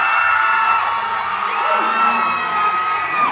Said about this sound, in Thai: ขอเสียงปรบมือดังๆให้กับ The Servant of Thailand อีกครั้งหนึ่ง